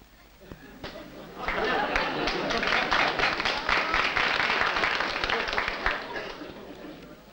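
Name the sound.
audience applauding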